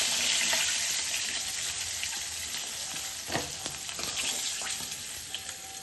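Close, steady sizzling of ritha fish frying in mustard oil in a kadai, a bright hiss punctuated by several crisp pops and spits toward the end.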